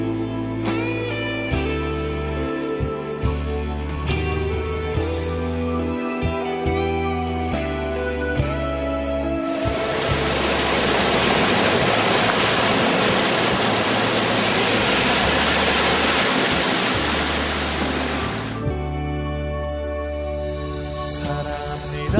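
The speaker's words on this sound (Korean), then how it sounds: "이곳에서부터 강물을 이루어서 흘러갑니다" Spring water at the Jordan River headwaters in northern Israel rushes as a broad, steady roar in the middle stretch, with tonal music-like bands before and after.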